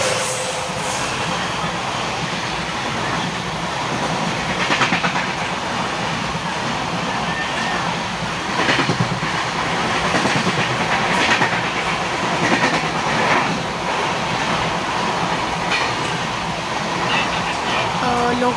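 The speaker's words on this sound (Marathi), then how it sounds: "ट्रेन आली" The Madgaon–Lokmanya Tilak Terminus superfast express arrives at a station near Chiplun, a loud, steady rumble of passing coaches with rhythmic wheel clatter on the rails, sustained throughout, with faint voices in the background.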